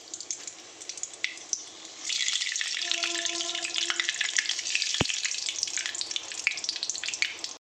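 Chili and five-spice dropped into hot oil in a heated wok burst into a loud, close, continuous sizzle that runs for several seconds after a quieter start, then cuts off.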